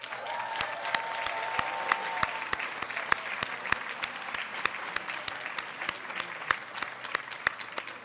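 Sustained audience applause at the 2022 CRSJ Thurgood Marshall Award Ceremony, honoring Sherrilyn Ifill, a dense steady wash of many hands clapping with a few sharper near claps standing out, continuing throughout.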